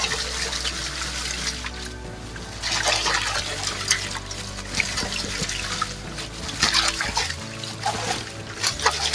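Cassava leaves being washed by hand in a basin of water, with continuous close splashing, sloshing and trickling as they are stirred, rising and falling in bursts throughout.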